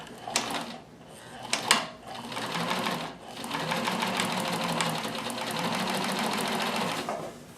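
A Bernina 610 sewing machine stitches in close, rapid mechanical bursts. A few clicks and clunks come first, then a steady, even run of stitching that stops abruptly.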